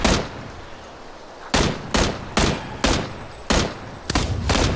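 Gunfire in the battle royale video game PUBG: a single sharp shot, a short pause, then a run of loud, closely spaced shots and a final quick burst, near and prominent, no voices.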